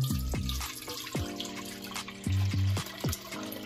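Homemade Jamaican sorrel juice poured through a tin strainer, a steady liquid trickle and splash with brief pulsing gurgles and a few louder bursts of flow, close and alone.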